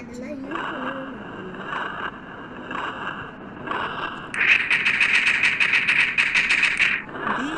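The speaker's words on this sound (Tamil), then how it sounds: "ஏதோ சவுண்டு கேட்டுச்சு. டரட் திரும்புற டரட் திரும்ப." A turret rotates in the Melon Sandbox video game, giving a buzzing mechanical whir that lasts about three seconds. A voice talks just before it.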